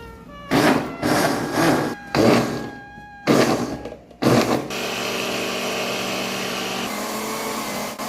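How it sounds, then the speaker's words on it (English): Several loud bursts of a blender pulsing on and off while making a milk smoothie, then a steady whirring motor runs continuously for a few seconds. "I don't think the blender can handle all of that at once"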